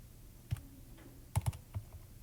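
Typing on a computer keyboard, a few sparse, soft key clicks in a small cluster over a quiet room background.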